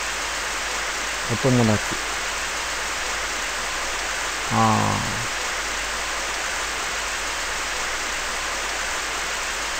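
Steady rain falls in a nighttime sea fishing video game, a constant dense hiss running throughout, with a few short bursts of a voice over it.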